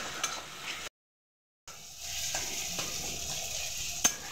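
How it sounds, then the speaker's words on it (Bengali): Chopped tomatoes are stirred in a hot pan until they soften, giving a steady close sizzle with scraping stir strokes and a sharp clink, broken by a brief silent gap. "এইভাবে টমেটোগুলোকে নাড়াচাড়া করে গলিয়ে নেবেন"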